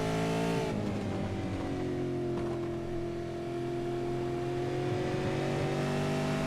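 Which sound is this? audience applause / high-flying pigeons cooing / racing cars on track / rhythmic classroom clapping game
racing cars on track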